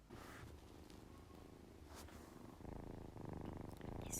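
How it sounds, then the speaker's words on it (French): A cat purrs close to the microphone in a continuous, steady, low rumble over about four seconds, growing slightly louder toward the end. "je vais mettre un petit moment où elle ronronne"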